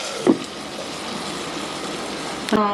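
A little water poured into a cooking pot of guar and muthiya curry in a village kitchen, making a steady close splash and gush between two brief knocks, with no talk.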